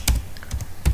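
Typing on a computer keyboard in Notepad, a few sharp keystrokes in about a second, close and fairly loud with two heavier thumps at the start and end.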